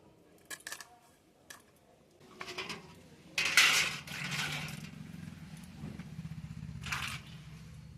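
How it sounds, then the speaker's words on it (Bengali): Knife chopping through a fish's head on a cutting board in a home kitchen: a few sharp clacks and scraping cuts, then a louder crunching burst and further scraping, close and fairly quiet. "এবার আমি মুন্ডুটাকে কেটে নিচ্ছি, মাথাটাকে।"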